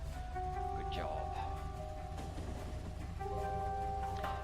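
A train in the Factorio video game rolls past with a steady rumble and tonal hum, a continuous game sound effect that stays loud and level throughout.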